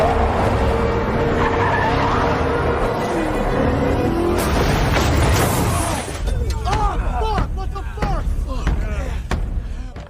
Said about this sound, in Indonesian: Nikki dengan sengaja menabrakkan mobil yang ditumpangi ke arah kumpulan mobil Sullivan yang sedang berjalan